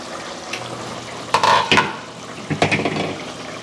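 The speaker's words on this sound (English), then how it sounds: "And now we're going to add the plantain to the yam. And stir it all up." A spoon stirs yam porridge with plantain in a pot, giving a few wet scraping and clattering bursts over a low steady background.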